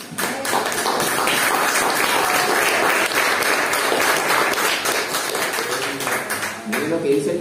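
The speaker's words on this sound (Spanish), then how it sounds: "Denme cualquier aplauso" A church congregation claps during a Spanish-language sermon, a sustained burst of applause that swells and holds, with a voice speaking over it near the end.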